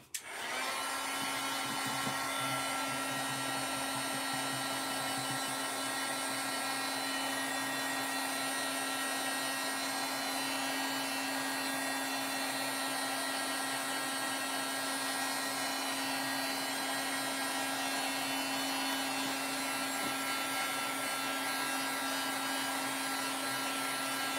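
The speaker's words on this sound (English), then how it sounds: "But now I'm going to use my heat tool." A craft heat tool blows on thick cardstock, starting with a click and then running as a constant whirring fan hiss with a steady whine, close and unbroken for the whole stretch.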